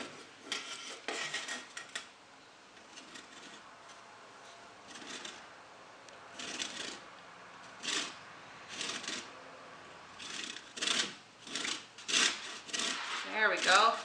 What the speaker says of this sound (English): do you remember how I told you how to grate this, Justin?